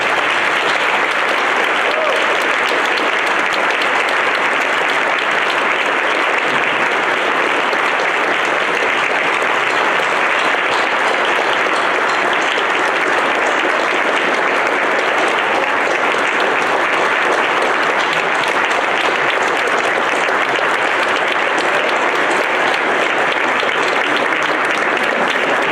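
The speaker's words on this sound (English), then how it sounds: "let's have a round of applause" An audience at an awards ceremony gives a long, sustained round of applause, dense steady clapping that fills the hall for nearly half a minute.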